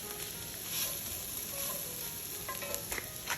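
Shiitake mushrooms frying with onion and garlic in a pan: a steady, soft sizzle with occasional faint crackles and pops, close and alone.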